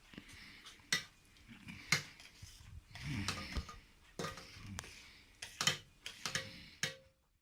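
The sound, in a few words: mixing sugar into grape syrup in a pot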